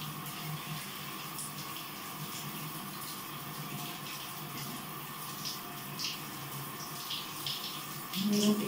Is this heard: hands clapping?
no